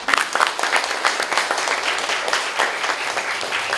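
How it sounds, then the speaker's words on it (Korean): An audience at a Korean community gathering bursts into applause, an initial loud burst of claps that settles into steady, slightly thinning clapping. "박수 한번 보내죠."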